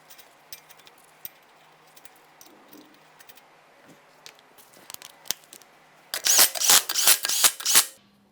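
A torque wrench tightens 21mm lug nuts on a 2014-2019 Toyota Corolla front wheel, giving a quick burst of loud, sharp ratcheting clicks near the end after a stretch of faint ticking and handling noises.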